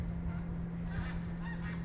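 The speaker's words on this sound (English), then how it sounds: "There's snow geese flying over me right now." Snow geese honk faintly as they fly overhead, distant calls drifting over a steady low hum and outdoor background noise, with no talking.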